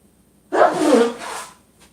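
One heavy sneeze bursts out close and loud, trailing into a short breathy exhale, then quiet.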